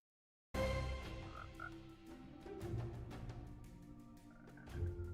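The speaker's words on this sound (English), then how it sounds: "And of course the new frog mobs." New frog mobs croaking in the video game Hypixel Skyblock, a steady stream of overlapping croaks that runs continuously after a short silence, clear and close with no talk over it.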